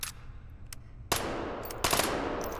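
Three-round burst gunfire from a gun in the H3VR virtual-reality game: a couple of sharp, sudden bursts of cracks with lingering decay, preceded by faint clicks, moderately quiet and with no voices.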